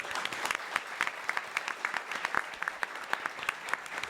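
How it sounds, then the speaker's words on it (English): A panel audience at an esports conference session applauds steadily, dense overlapping claps sustained throughout at moderate distance, with no voices on top. "Let's give our panelists and yourself a round of applause."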